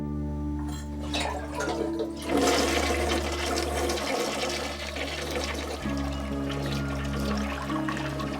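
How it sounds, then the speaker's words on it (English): A toilet flushes with a loud rushing gurgle of draining water, then settles into a steady refilling hiss and trickle, close by and alone, with no talk. "The toilets used to flush on their own."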